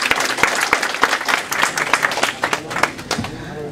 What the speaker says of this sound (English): So another applause for Data Group.